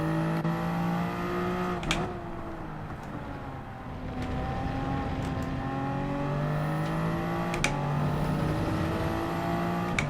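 A race car in Gran Turismo 7 pulls out of the pit lane on soft tyres, its engine droning steadily with rising and falling revs through gear changes and occasional sharp clicks, with no talk over it.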